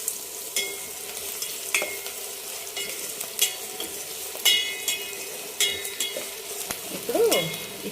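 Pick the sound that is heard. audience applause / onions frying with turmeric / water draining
onions frying with turmeric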